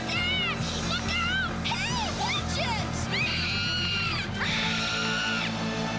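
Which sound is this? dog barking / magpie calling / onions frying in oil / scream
scream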